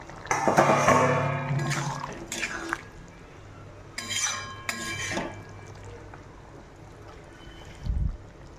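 Cauliflower with chilli powder, Kashmiri chilli and garam masala being stirred and fried in a pan: scraping and clinking of a spoon against metal in several short bursts, with quieter pauses and a low thud near the end.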